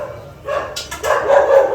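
A household dog gives a few short, close barks and yips in quick succession, fairly loud with no talk over them.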